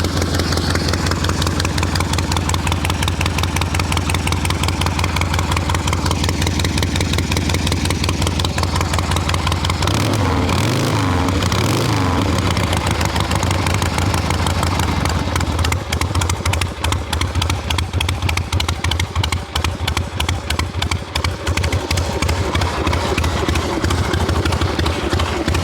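An XLCH chopper motorcycle engine runs loud and close throughout, first a steady lumpy idle, then revving and pulling away into a ride with a continuous throbbing rumble and the rattle of wind.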